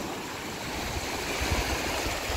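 Sea waves wash steadily at a warm-water beach in Sarafovo, a continuous close rushing hiss with soft low surges and no voices.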